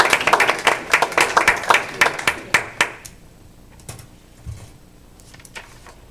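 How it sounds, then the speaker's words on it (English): Scattered hand claps from a small group at a board meeting, loud and quick for about three seconds, then fading into quiet room tone with a few stray sounds. "If you want to come up so we can give you a round of applause."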